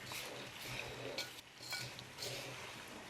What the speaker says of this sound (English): we stir it in, trying to coat every single bit